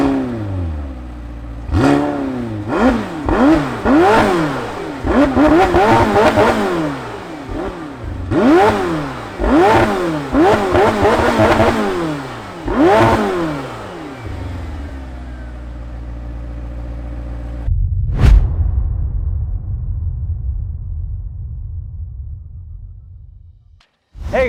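A McLaren 720S Performance Package with a 4.0-litre twin-turbo V8 revs repeatedly, loud and close, in sharp rising-and-falling blips that settle into a steady idle drone before the engine shuts off.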